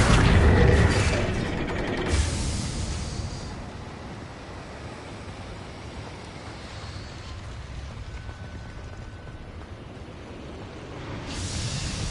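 Confringo fire blast spell in Hogwarts Legacy: a loud, deep booming burst at the start that fades into a long rumbling, roaring decay, with a second swell rising near the end.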